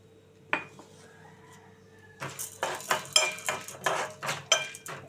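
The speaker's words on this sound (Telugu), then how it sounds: "దాంట్లో వేసి బాగా కొంచెం దోరగా వేయించుకోవాలి." A spoon stirs chana dal and urad dal roasting in a little oil in a kadai on the stove, making a rapid, regular series of scraping clinks against the pan after a quiet start.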